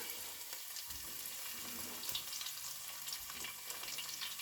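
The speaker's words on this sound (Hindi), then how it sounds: "अब इसमें मैं डाल दूंगी चॉप्ड गार्लिक।" Chopped garlic and whole spices frying in hot oil for a vegetable handi, a steady dense sizzle with crackling bursts, close and continuous with no talk.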